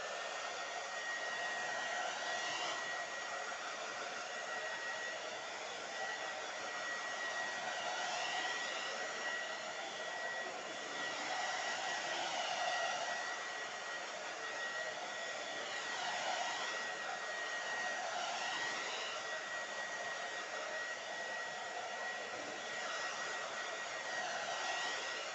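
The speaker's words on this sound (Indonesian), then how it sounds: "ini sekarang gua mau mempersingkat waktu pengeringan ya, pakai alat heater. Ini hair dryer" A hair dryer blows steadily and close up, drying nano ceramic coating on a motorcycle, a constant loud whine with a faint tonal hum and no talking.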